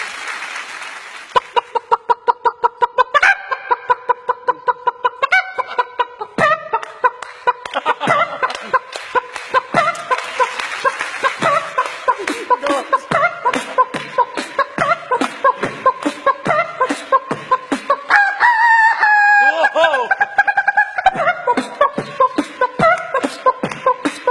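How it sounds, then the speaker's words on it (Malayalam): A hen's post-egg-laying clucking chopped into a rhythmic DJ dance remix, with repeated clucks sampled over a steady beat and punchy percussive hits throughout. "മുട്ടയിട്ട് കഴിഞ്ഞ് അത് പുറപ്പെടുവിക്കുന്ന ശബ്ദത്തിൽ നിന്നും ഒരു DJ"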